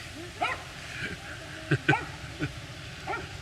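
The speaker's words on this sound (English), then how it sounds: "Look at that, a collection of wiener dogs." Several dachshunds give short, scattered yips and barks at a distance, a few sharp bursts over quiet outdoor background.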